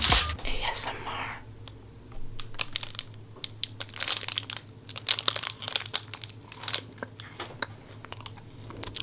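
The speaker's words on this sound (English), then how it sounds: "I'm eating a Kellogg's protein meal bar" Someone munches a Kellogg's protein meal bar, close and soft, with irregular crunchy bites and crinkling of the wrapper throughout, amid breathy whispery sounds.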